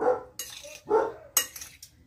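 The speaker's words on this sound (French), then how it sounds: "J'ai le chien qui aboie pour finir." A dog barks a few times somewhere in a home kitchen while a mousse of tuna with avocado and sun-dried tomatoes is being prepared, short sharp yelps mixed with light clinks of dishes and cutlery.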